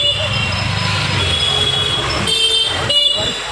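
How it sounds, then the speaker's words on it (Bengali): Many vehicle horns honking together on a busy road after rain in the evening, a loud, continuous blare of overlapping tones with steady traffic rumble underneath. "এত গাড়ির হর্ন যে কি কথা বলবো।"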